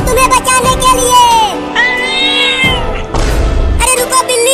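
A cartoon cat meows in several loud, drawn-out calls, close and bright, with busy cartoon sound and music around it in a comedy scene.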